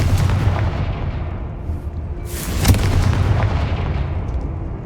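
The Confringo fire spell in Hogwarts Legacy lands as a loud, booming blast with a sharp crack at its peak, set within a dense, rumbling wash of explosive noise.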